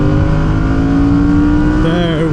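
A Fantic Caballero 700 motorcycle engine held at high revs, a loud steady whine with strong harmonic tones that climb slightly, then waver and shift near the end as the throttle changes, close up.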